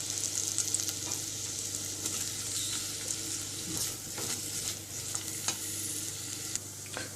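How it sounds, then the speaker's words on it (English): Sliced onions sizzle in a pan of hot fat as a base for chicken liver parfait, with a continuous close frying hiss and occasional soft scrapes of a stirring utensil, with no one talking. "And into that I'll be adding all the sliced onions."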